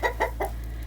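A hen clucks three times in quick succession, close and fairly soft, over a steady low background hum.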